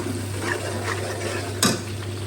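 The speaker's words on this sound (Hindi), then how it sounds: "तो यहाँ पे फ़िश फ्राई हो रही है" Fish fries in a pan with a soft, steady sizzle under a low hum, and a single sharp scrape of a utensil stands out near the end.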